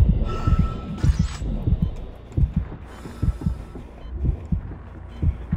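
Dead Space 3's heartbeat effect pounds in a clear low double-thump pattern, regular and prominent, over a faint game hum with a few high tonal flickers.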